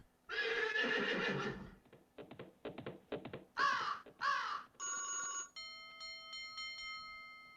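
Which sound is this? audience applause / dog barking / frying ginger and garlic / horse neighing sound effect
horse neighing sound effect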